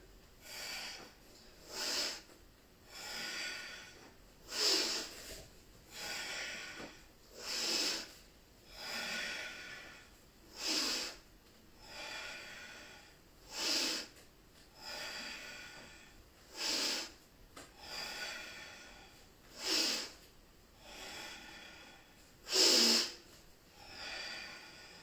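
Forceful, rhythmic breaths during a kundalini yoga exercise, each a sharp, hissing nasal burst repeating steadily about every second and a half over a long stretch, fairly quiet and alone without speech.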